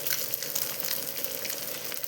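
Fish sizzles steadily in hot oil in a pan, a dense, even crackle close by with no voices.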